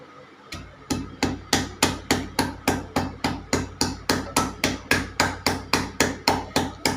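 A green chili is crushed for South Indian rasam with a series of about twenty evenly spaced, sharp pounding knocks, loud and close, with no talking.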